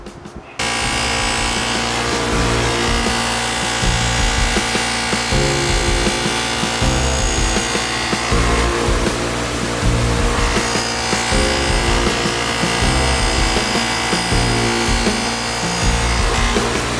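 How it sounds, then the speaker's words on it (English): A budget polishing wheel buffing an aluminum exhaust part from a Yamaha YZ125, heard as a continuous loud, gritty rubbing whine that holds steady and close throughout. "this is a cheaper polishing wheel, but yeah, working all right so far"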